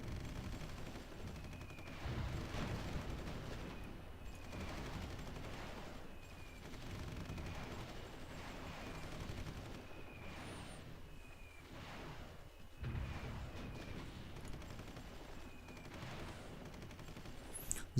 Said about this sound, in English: So my plan is actually to do some nice airstrikes here